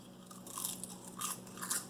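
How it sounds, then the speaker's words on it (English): Someone bites into homemade vegan jerky, maybe topped with sesame seeds, giving three or four crisp, close crunches in quick succession over a quiet room. "Can you hear the crunch?"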